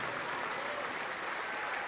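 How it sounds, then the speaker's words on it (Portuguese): A church congregation claps steadily in a dense, continuous wash of applause that fills the room at an even level from start to finish. "Vamos aplaudir ao nome de Jesus por cada vida que está chegando"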